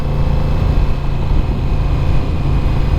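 A Honda Rebel 1100 motorcycle engine runs steadily in second gear at about 3,000 rpm, a close, continuous rumbling drone at constant, moderate pitch with no change in revs.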